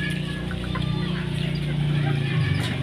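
Bantam chickens (ayam kate) cluck softly in a cage, with a steady low rumble underneath and a voice talking over the birds throughout.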